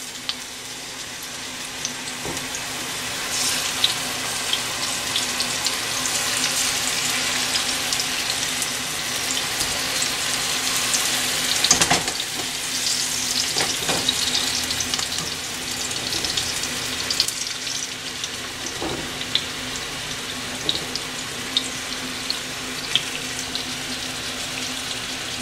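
Fish pieces fry in hot oil in a pan, a steady crackling sizzle with scattered sharper pops running throughout, close and fairly loud with no voices.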